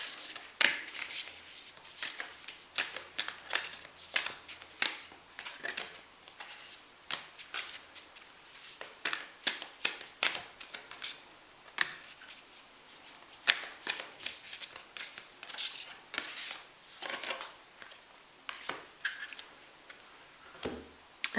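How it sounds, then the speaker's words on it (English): A deck of oracle cards is shuffled and pulled by hand for a tarot reading, with a long run of crisp riffling and flicking snaps in quick irregular bursts, close and clear. "I'm going to pull some oracle cards for you"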